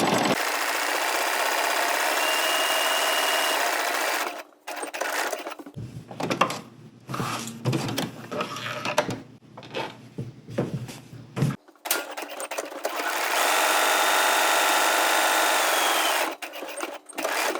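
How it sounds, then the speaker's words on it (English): A sewing machine runs in sustained bursts while sewing a seam with black thread on a travel overnight bag, broken by a stretch of handling and rubbing fabric noises before stitching resumes. "So I'm going to go ahead and just sew this in black"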